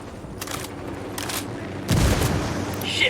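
A frag grenade bursts amid rattling gunfire in a Ghost Recon Wildlands firefight, a heavy boom near the end following several sharp bursts of shots, loud and close.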